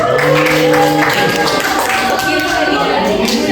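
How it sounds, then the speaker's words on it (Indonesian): A classroom group claps for the left-hand group as it comes forward in a microteaching session, brisk applause mixed with voices throughout. "Tepuk tangan untuk kelompok kiri"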